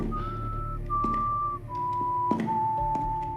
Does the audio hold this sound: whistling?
yes